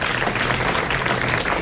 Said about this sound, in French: Nous applaudissons Madame Portier de Mons.